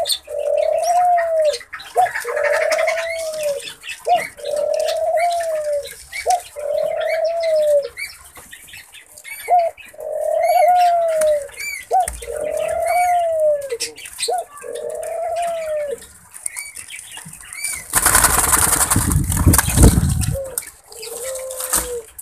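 Pied form of the ring-necked dove cooing in a steady series of repeated rhythmic three-part coos, close and clear, followed near the end by a brief burst of broadband rustle like flapping wings.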